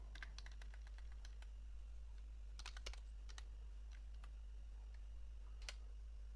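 Typing on a computer keyboard while writing code: quiet, irregular clusters of crisp key clicks, close by, over a steady low hum with no talking.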